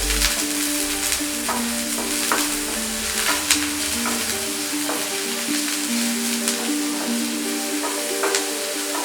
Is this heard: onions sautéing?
yes